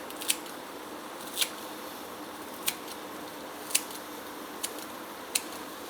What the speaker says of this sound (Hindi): तो हम इस तरीके से हरा धनिया काट कर डाल देंगे